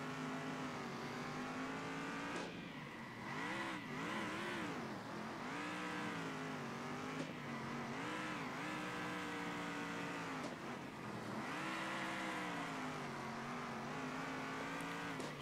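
Race cars in the Circuit Superstars video game roar steadily through the whole stretch, engines rising and falling as they accelerate and ease off through corners, with no talk over them.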